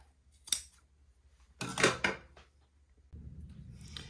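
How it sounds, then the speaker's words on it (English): Scissors cut through plaid fabric for button-on bloomers in a few short snips and a longer cutting stroke, heard close on a quiet background without talk. "this will take me a minute to get this all cut"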